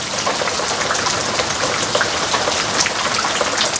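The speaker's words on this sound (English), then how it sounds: "in gratitude for this rain" Steady, dense rainfall pattering on surfaces outdoors, loud and close, continuous hiss of drops with no voices.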